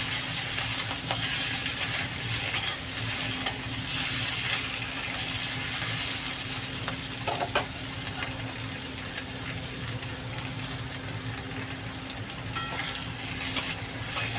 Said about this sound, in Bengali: হলুদটা দিয়ে আর একটু নাড়ক